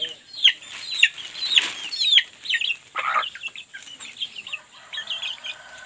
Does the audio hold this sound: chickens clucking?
yes